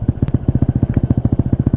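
A PGO Tigra 150 scooter engine fitted with an Akrapovic exhaust idles close by, giving a steady, rapid, evenly pulsing low thump that runs without a break.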